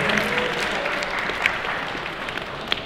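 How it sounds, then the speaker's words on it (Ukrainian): An audience at a Western Ukraine championship applauds an athlete after a won bout, a continuous crowd clapping at moderate distance with a few sharper individual claps poking through. "Оплески спортсмена"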